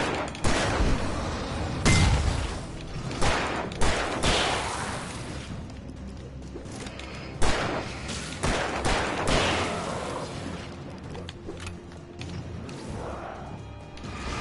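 Gunfire from the video game Alan Wake Remastered, loud irregular shots and heavy impacts scattered across the stretch, with the sharpest blast early and further bursts later over a busy game soundscape.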